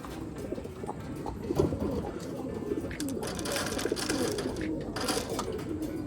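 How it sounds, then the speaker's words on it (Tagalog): Racing pigeons coo steadily while being fed, a low murmuring chorus with occasional wing flutters and scuffs, moderately close with no talk. "may patuka na mga kalapatids"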